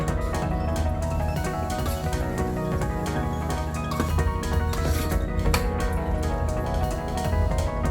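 Continuous scraping and rubbing of a utensil against a bowl as a raw mango batter with lemon juice is mixed by hand, steady and close with no voices.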